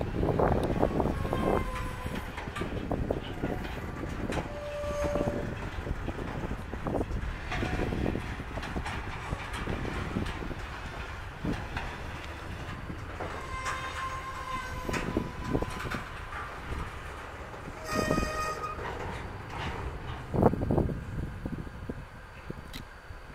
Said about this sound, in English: And there's the locomotives right there.